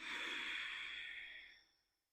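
A single long, airy breath during a guided breathing practice, close and fairly loud, holding steady for over a second and then fading out smoothly, with no talking.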